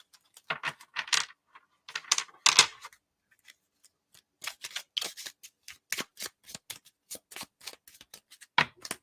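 Tarot cards are shuffled loosely by hand in close, crisp bursts of riffling and slapping, with a short pause before a longer run of quick, uneven card flicks.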